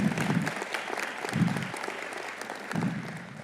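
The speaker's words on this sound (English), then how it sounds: "Give them a huge round of applause." An audience at a State of the City event applauds in a steady, moderately loud wash of clapping, with a few heavier low thumps and rustles breaking through at intervals.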